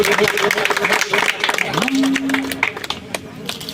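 A crowd at a Shitla Mata temple bhandara claps to welcome a volunteer, with rapid scattered hand claps running under someone talking over a loudspeaker amid general crowd noise.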